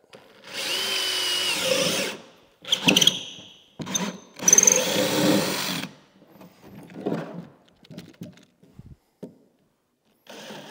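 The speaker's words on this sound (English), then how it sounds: "I'm going to tilt my drill slightly and I'm going to hog out this back portion here" Power drill tilted to back-cut and widen a handrail rail-bolt hole in wood, in several loud bursts of grinding whine, each a second or two long, tapering to quieter intermittent buzzes and clatter near the end.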